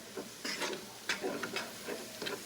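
A utensil stirs cheese into eggs cooking in a pan, giving a few soft scraping strokes over a faint sizzle, close and quiet.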